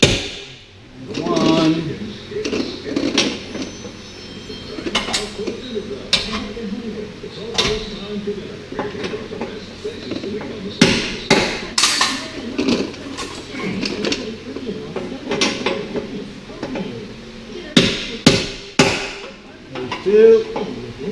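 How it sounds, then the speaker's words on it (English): A chisel is hammered to chip old Raptor coating off the fenders and bumpers of a 2013 Jeep Wrangler JK Moab, giving sharp, irregular metallic knocks mixed with scraping, while a person talks and counts over them. "Let's see if the chisel will work."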